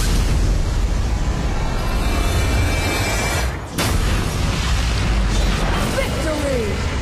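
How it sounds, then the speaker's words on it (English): An enemy tower is destroyed in the Arena of Valor mobile game, giving loud, dense, continuous booming blasts with a short dip midway, mixed with in-game voices. "Your team has destroyed a tower"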